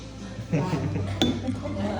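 Glasses clink together in a tequila toast, a few bright chinks close by, with people talking over and around them.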